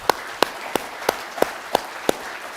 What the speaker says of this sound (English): give a big round of applause to the three panelists